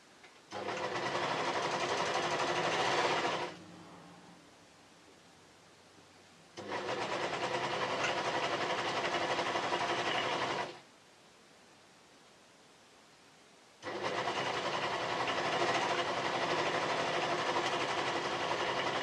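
A serger stitches a T-shirt hoodie in three long bursts of loud, steady whirring, each stopping abruptly, with quiet pauses between runs.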